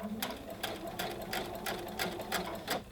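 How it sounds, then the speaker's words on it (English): A sewing machine stitching a very fluid fabric, its needle running in a quick, even rhythmic patter of about a dozen close, moderately loud strokes, with no talking. "you can just use the hand wheel to make sure you're starting at the right point, and then start stitching"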